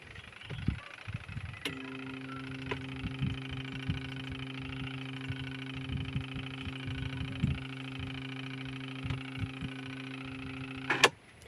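A faulty washing machine runs its wash timer while the motor and flywheel stay still, giving a steady electrical hum with faint clicks and a sharp click at the start and end, no voices.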